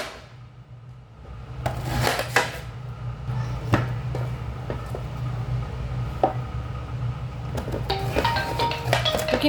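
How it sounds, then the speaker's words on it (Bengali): Taro (man kochu) being cut into pieces with a knife on a board in a village kitchen, scattered sharp knocks and taps at an uneven pace over a low steady hum, fairly close. "এটাকে পিস পিস করে কেটে নিচ্ছি"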